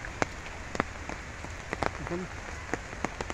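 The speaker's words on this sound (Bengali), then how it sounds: "প্রচুর স্রোত, সাথে বৃষ্টি হচ্ছে।" Monsoon rain falls outdoors beside a fast-flowing river and wetland in Sunamganj, making a steady soft patter with scattered sharp drop clicks. A voice speaks briefly.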